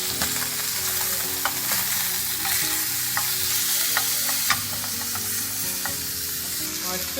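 Red snapper, just flipped, sizzles and spits steadily in a hot frying pan, with a dense, continuous crackle and occasional sharper pops close by.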